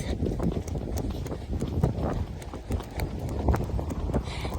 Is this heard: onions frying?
no